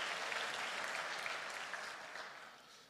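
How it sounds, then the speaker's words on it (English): Church congregation applauding together during a Sunday service in Uganda, a dense, steady wash of clapping that fades slightly toward the end, with no voices over it. "So let's clap for ourselves as well."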